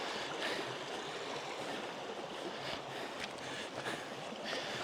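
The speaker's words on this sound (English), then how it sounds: "This is a good sign that this stream's here, though." Small highland stream flowing near a ruined croft, a continuous close rush of water with steady broadband noise and some wind.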